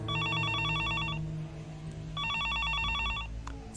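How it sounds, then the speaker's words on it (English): A telephone rings in the Higurashi video game, sounding two loud bursts of rapid electronic trilling with a short gap between them, over steady low background music. "Suddenly, the phone breaks the silence."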